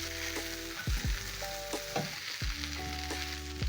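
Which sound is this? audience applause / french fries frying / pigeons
french fries frying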